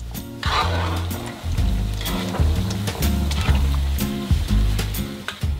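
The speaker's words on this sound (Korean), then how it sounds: "설탕과 바나나를 넣고 튀겨주면 금세 완성이 됩니다." Bananas frying with sugar in hot oil, a steady crackling sizzle with irregular bubbling pops, close up, with no voices.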